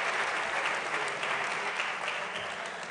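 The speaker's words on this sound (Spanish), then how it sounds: "Un aplauso" Sustained applause from an audience at an evening award ceremony for a Spanish rugby team captain and national coach, dense and steady clapping throughout.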